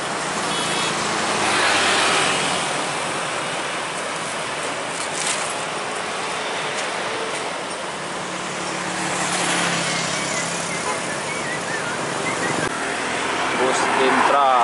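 An Intra bus from Pekanbaru speeds along a road with sharp bends, giving a loud, continuous roar of engine, tires and wind that swells gently and holds steady throughout.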